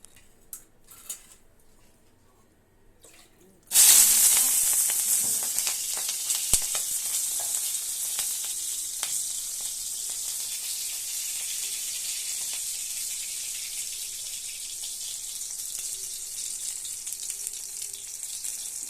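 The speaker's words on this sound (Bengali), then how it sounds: "কাঁচা লঙ্কাটা ভাজা ভাজা হয়ে গেছে" Green chillies hit hot oil in a pan (kadai) and burst into loud, steady sizzling that continues to the end. Before that, only a few faint clicks are heard in near silence.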